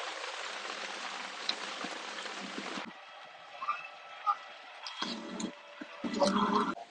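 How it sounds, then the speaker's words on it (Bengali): Heavy rain pours down on a street by a toto stand in Chandannagar near Kolkata, a dense steady hiss for about three seconds that then thins and drops away, leaving quieter street sounds with scattered knocks and a few brief noises. "জাস্ট বেরুলাম আর দেখতে পেলেন ঝমঝমিয়ে নামলো বৃষ্টি"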